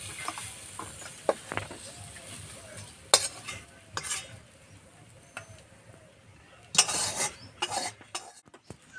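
Potato filling scraped and stirred in a pan, then tipped out, with soft sizzling, spoon scrapes and a few louder metallic clatters near the end, close and moderately quiet.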